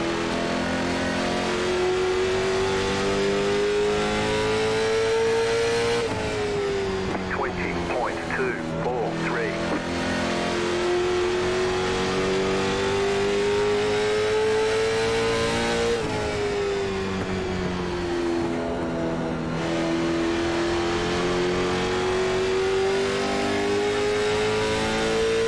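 Late model stock race car engines in a racing game at Stafford, a steady loud drone that rises and dips as throttle is eased on and off, with a commentator talking over it throughout.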